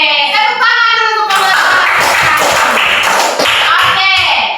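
A classroom of students breaks into applause, a dense burst of many hands clapping close by with rapid overlapping slaps, following a brief stretch of a teacher talking.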